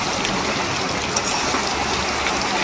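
Rain falls in a steady, dense wash of noise, a continuous hiss and patter that stays even throughout the short stretch with no voices.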